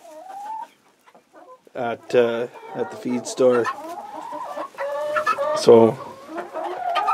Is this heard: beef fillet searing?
no